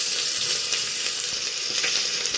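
Chopped onion sizzles and crackles in hot oil inside a pressure cooker, with dried red chillies already in the pan. The frying hiss is steady and close throughout, with no talking.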